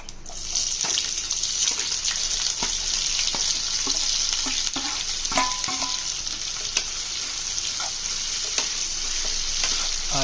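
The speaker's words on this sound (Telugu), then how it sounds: "ముందుగా కట్ చేసి పెట్టుకున్న ఆనియన్ ముక్కలను ఇప్పుడు యాడ్ చేసుకుంటున్నాను." Chopped onions sizzle in hot oil for a tomato onion egg curry and are stirred in the pan, a steady, close frying hiss with scattered scraping and tapping from the utensil and no talking.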